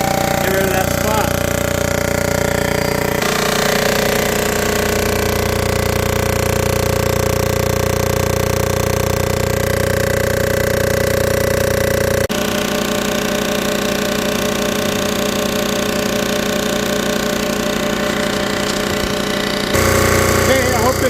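A machine cutting a cylinder head on high feed gives a loud, continuous grinding drone with a steady chatter and a tonal whine. The sound shifts abruptly in character a few times as the pass continues.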